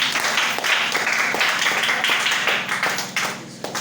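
A church congregation claps loudly, a dense rattle of many hands with uneven sharper slaps throughout and no speech.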